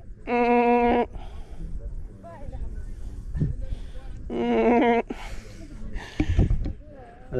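Baby goats on a farm near an active volcano bleat in loud, quavering cries, two long calls near each other separated by a few seconds, with people talking and handling noises in between.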